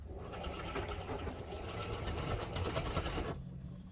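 A fuel transfer pump runs in reverse, drawing fuel back out of a container while preparing generators for winter in North Idaho, giving a steady close mechanical whir and rattle that stops just before the end.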